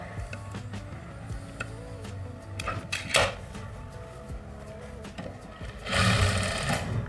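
A sewing machine stitches a seam on a katori blouse, running steadily up close with brief shifts in speed and a louder, denser burst of stitching near the end.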